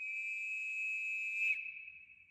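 A steady, piercing high whistle holds one pitch for about a second and a half, then continues more faintly after a brief break.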